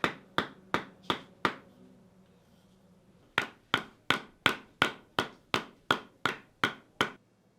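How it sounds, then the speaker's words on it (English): Sharp, evenly spaced wooden thuds of a mallet beating tree bark into cloth: a quick run of five blows, a short pause, then a longer steady series, close and loud. "Differing hammering techniques can completely separate the bark."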